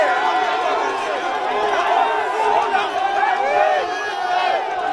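A large outdoor crowd in Goma erupts in joyful cheering and shouting at the president's arrival, a sustained, dense wall of voices close by.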